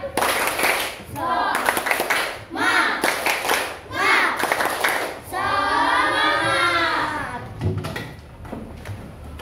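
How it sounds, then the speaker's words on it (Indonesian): A classroom of children stands and performs a rhythmic spirit clap, bursts of patterned clapping alternating with their chanting voices, lively and close, ending with a few scattered claps. "Tepuk semangat."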